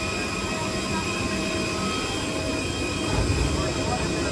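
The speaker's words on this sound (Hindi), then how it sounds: "ये कितनी आवाज़ कर रही है जहाज़ का इंजन, जो कितना आवाज़ कर रहा है।" IndiGo aeroplane jet engine at an airport, a loud continuous whine with steady tones over a broad rushing roar that swells slightly near the end.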